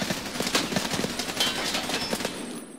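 Rapid automatic fire from a SCAR rifle in Escape from Tarkov, a dense, loud, continuous stream of sharp shots lasting nearly three seconds before cutting off.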